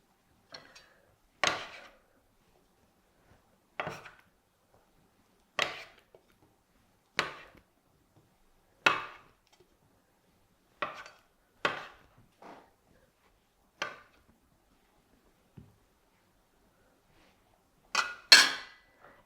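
A knife cutting sourdough into small pieces for hot cross buns, heard as about a dozen separate soft chops on a board, spaced a second or two apart, near and alone with no talk.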